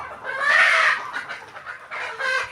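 Country chickens on a poultry farm in Khanapur village, Kalaburagi, cluck and call in two close, fairly loud bursts with a short lull between them.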